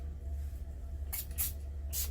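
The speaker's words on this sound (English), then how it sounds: "I'm gonna use my rose toner spray" Rose toner facial mist sprayed from a bottle in three short, airy spritzes, the first two close together and the last one near the end, over a low steady hum.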